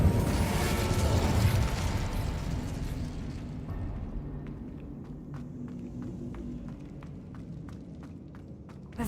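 Incendio fire spell cast in Hogwarts Legacy, a loud whooshing burst of roaring flame that fades into crackling embers with sharp intermittent pops trailing off over several seconds.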